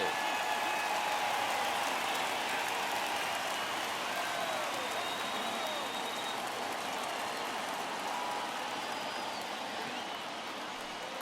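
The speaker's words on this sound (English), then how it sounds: "Crowd gets up for the 3-2." A baseball stadium crowd in MLB The Show 21 rises in a sustained roar of cheering on a full count, a dense continuous wash of noise that slowly fades, with commentators speaking over it.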